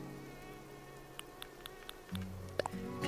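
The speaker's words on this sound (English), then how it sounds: "God, that mosquito is annoying. It's so loud." A mosquito in the Animal Crossing New Horizons video game buzzes with a steady thin whine, with soft game clicks and a low tone toward the end.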